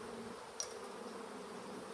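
Honey bees hum steadily at an open hive during queen-rearing prep, a dense, even drone that holds for the whole stretch, with a brief sharp click near the middle.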